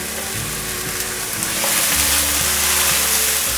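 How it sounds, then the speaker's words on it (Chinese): Shimeji mushrooms with red and yellow bell peppers fry loudly in a pan, giving a dense, continuous close sizzle with scraping and stirring underneath as they are tossed quickly. "快速的翻炒"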